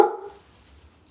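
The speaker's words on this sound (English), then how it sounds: "that's Sandy barking" A dog gives one short, loud bark right at the start, followed by near silence with only a faint low rumble in the background.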